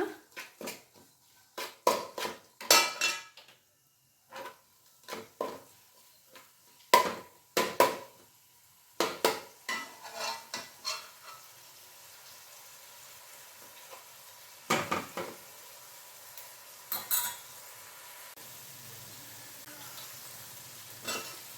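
Onion and tomato with turmeric softening in a pan for chole masala, sharp intermittent clatters of a spoon against the pan in clusters over a faint sizzle, then quieter stretches, no voices.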